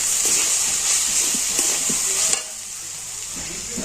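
Carrot and cabbage stir-fried with chopped coriander for momo filling, a loud, steady sizzle and hiss with scraping stirs, close up and continuous.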